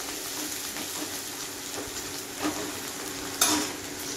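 Ginger and garlic are stirred in a hot pan, a steady close sizzle with soft scraping strokes of a spoon and one brief sharper clatter near the end, no voices.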